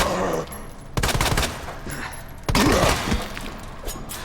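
Matilda handgun firing three-round bursts in Resident Evil 2, two sharp loud gunshot bursts close up with a brief scattered clatter around them over the game's background sounds.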